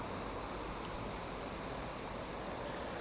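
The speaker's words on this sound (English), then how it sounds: "Right near the river here, of course, as you can hear" The River Derwent flows beside Masson Mills in the Derwent Valley, making a constant, even rush of water that holds steady throughout, with no other sounds.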